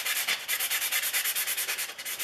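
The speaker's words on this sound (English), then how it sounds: "now what I do is I move on to the foam sanding blocks" Foam sanding block rubbed along the grain of a wooden hand plane tote, a close, quiet scratchy swish repeating in quick, even back-and-forth strokes with no talking.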